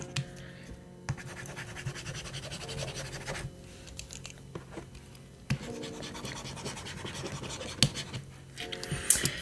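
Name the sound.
Staedtler Jumbo pencil eraser rubbing on reMarkable 2 screen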